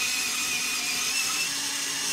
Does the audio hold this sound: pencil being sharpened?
yes